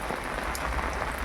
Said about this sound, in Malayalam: ഇത് മഴ വരുന്നുണ്ടല്ലേ